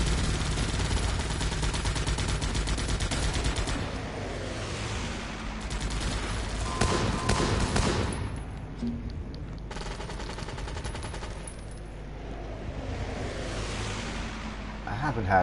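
Video game gunfire from the shooter Guns Up, with dense bursts of rapid shots and explosions forming a loud, continuous roar that swells and dips throughout.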